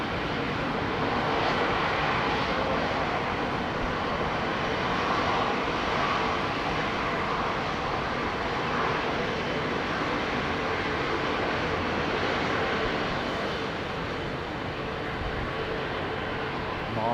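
A jet airliner roars down a runway at Heathrow Airport on takeoff, a loud, steady broadband rumble and whine that holds throughout and eases slightly near the end.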